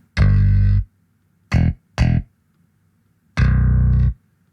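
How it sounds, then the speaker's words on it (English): Clean, unprocessed DI bass guitar tone from a DjinnBass 2 plays four separate notes, a long one, two short plucks, then another sustained note, with quiet gaps between. "So here's DI."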